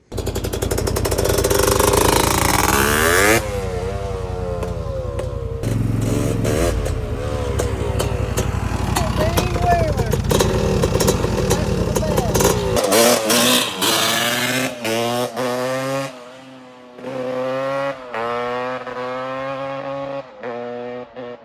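A small ATC three-wheeler engine revs hard and loud, pitch climbing and falling through repeated throttle bursts, with no talking.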